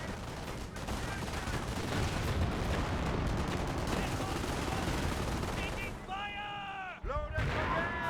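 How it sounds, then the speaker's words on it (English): A mortar shell strikes in Company of Heroes amid dense crackling gunfire and battlefield explosions, with a voice talking over the continuous combat noise and a brief whistling tone near the end. "Ooh, good mortar hit there."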